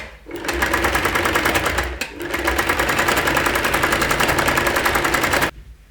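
A sewing machine fitted with a ruffler foot stitches pleats, its needle hammering in a loud, fast, steady rhythm that stops briefly near the two-second mark, then runs on before cutting off near the end.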